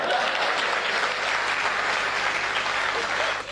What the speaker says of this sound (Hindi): एक बार तालियां ठोक के बताइए